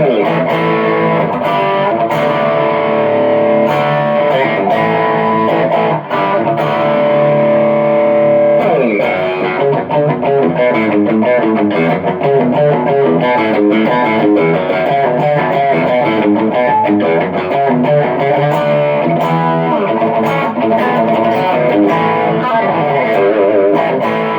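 Electric guitar played through a Minotaur-style Klon overdrive pedal at full gain, thick and sustained with chords and riffs ringing continuously and loudly throughout.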